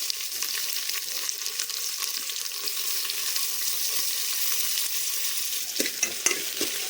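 Shallots, a large onion, garlic and mustard seeds frying in a pan, giving a steady close-up sizzle with a few sharper stirring clinks near the end.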